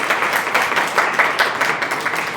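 Audience applause at a farming workshop session, a steady wash of many hands clapping together, fairly dense and even throughout with no talk over it.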